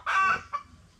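A chicken gives a short, loud cluck followed by a softer second call at close range, on a Filipino backyard with chicks around.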